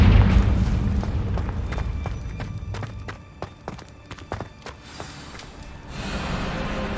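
A Confringo fire spell bursts in the video game Hogwarts Legacy, a deep rumbling boom at the start that fades into a string of sharp thuds and clatters, with low game ambience returning at the end.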